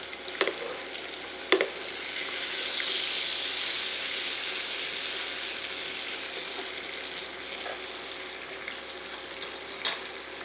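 Pork chops sizzle steadily in a hot pan while being basted, a continuous frying hiss with a few sharp clinks and taps of the spoon against the pan, heard up close with no talking.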